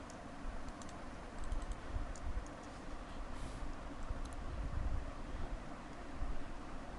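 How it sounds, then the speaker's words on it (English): Keys clack steadily on a computer keyboard in a quiet room, a close, continuous patter of typing with no voices. "let's type"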